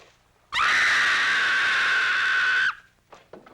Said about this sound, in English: That was a scream.